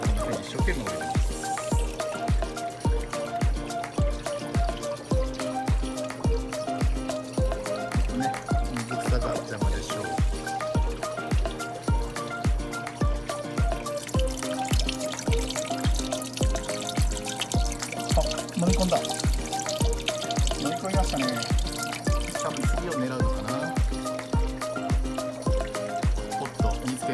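Water current churning steadily in an aquarium tank, the outflow aimed at the glass wall to spread it, giving a continuous bubbling trickle with rhythmic pump pulses, with someone talking over it.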